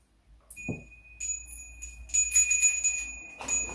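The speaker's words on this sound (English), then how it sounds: "Feng Shui bells." Small metal feng shui bells tinkle and jingle softly, a few light chimes ringing out with lingering tones in a quiet room.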